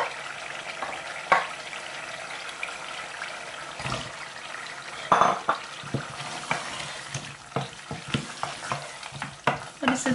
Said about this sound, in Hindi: अच्छे से भून लेंगे और तकरीबन अभी गोश्त आधा गल चुका है तो हम इसमें डालेंगे अब आलू।